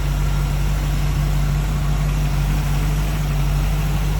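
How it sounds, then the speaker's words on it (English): The V8 engine of a 1947 Ford Coupe street rod idles steadily with a smooth, low rumbling hum that holds constant, close and fairly loud, with no talking. "See, very smooth running engine underneath there."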